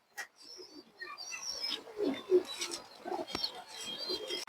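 Pigeons cooing in low, soft murmurs, mixed with higher bird chirps and calls nearby, steady throughout.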